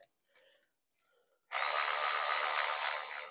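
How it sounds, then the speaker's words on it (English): A cordless electric ratchet winds out two 10mm bolts on the tensioner of a Ford Fiesta EcoBoost, producing a loud, steady motor whir that starts abruptly after a few soft clicks and handling noises and runs close up until the end. "electric ratchet to wind them up"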